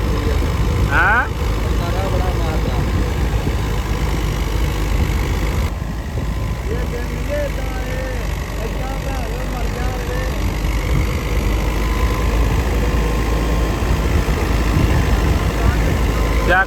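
A New Holland 850 tractor engine runs steadily while powering a wheat thresher, a continuous low, heavy drone with mechanical rattle throughout and a brief change in tone partway, with voices talking over it.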